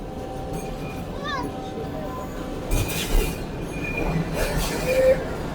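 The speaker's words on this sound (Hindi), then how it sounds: "लांडी निकल चुकी है ट्रेन और अब डिग रोड की तरफ गामजन है" Karakoram Express train rolling along the tracks after leaving Landhi station in Pakistan, a steady rumble with faint wheel squeals and rising clatter partway through, heard close from on board.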